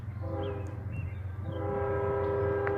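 Sustained chord from a second generation K5HL horn on a coal train, sounding loud and close, broken by a brief dip before it resumes over the steady low roar of the moving train.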